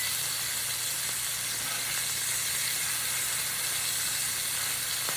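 Bacon sears in a hot pan with a steady, dense sizzle and hiss that holds at an even level throughout, close and unbroken, with no voices.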